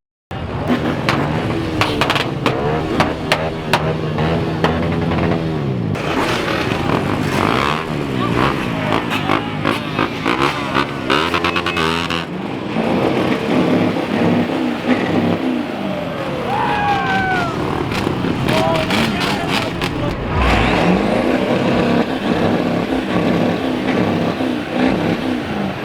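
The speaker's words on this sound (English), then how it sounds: "Doing a burnout on the back of his truck." A pickup truck doing a burnout at a truck show, engine revving hard and roaring loudly and continuously, with tire noise, crowd cheering and people talking over it.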